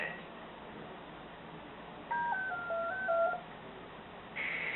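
Lexibook Power Net computer connecting to the internet with a quiet sequence of telephone dialing tones and beeps over a faint hiss, each tone brief and stepping in pitch.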